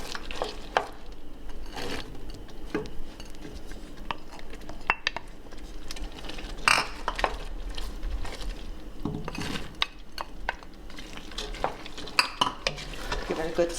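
A spoon stirs a pot of melted jelly with nuts and raisins cooking for Italian Christmas cookies, giving a steady run of scraping, knocking and clinking against the pot with faint sizzling underneath, close and alone.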